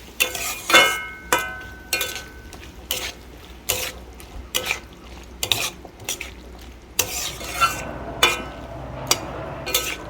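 Chopped Chandramukhi potatoes being stirred in a pan on the stove, with repeated sharp scrapes and clinks of the spatula against the metal over a steady low sizzle, close and clear, with no talking.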